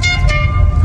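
A short, loud car horn honk sounds over the low rumble of a running engine nearby, in traffic in Hat Yai, Thailand.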